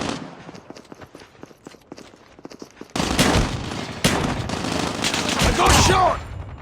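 Gunfire from a shotgun-only match in a shooter video game, with scattered shots at first, then a sudden, dense, loud barrage of blasts that continues to the end.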